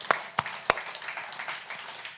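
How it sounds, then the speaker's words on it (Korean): A church congregation at a prayer meeting applauds in praise, a few sharp separate claps up front followed by softer scattered clapping at moderate distance. "우리는 하나님 앞에 영광의 박수를 올려드리겠습니다"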